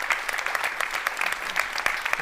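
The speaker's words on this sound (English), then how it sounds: "Please give them a round of applause." An audience at a university public-affairs forum gives a short round of applause, dense steady clapping heard throughout at moderate loudness.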